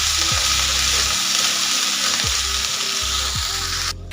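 Chana masala gravy fries in oil in a pan, giving a loud, continuous close sizzle with a low steady hum underneath, alone with no voices.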